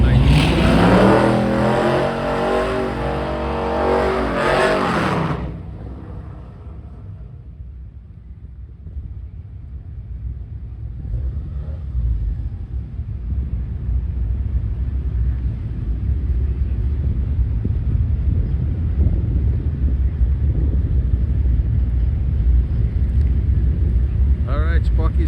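A nitrous-assisted drag car on its first run with the smallest nitrous shot roars loudly and close for about five seconds, then the engine noise drops away into a steady low rumble of distant track ambience.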